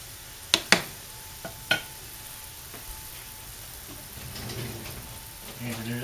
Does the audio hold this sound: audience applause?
no